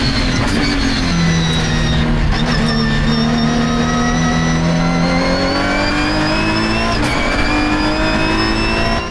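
Race cars in a Britcar race at Oulton Park scream past close by, their engines revving hard with rising and falling pitch. The roar is loud and continuous throughout, with no talking.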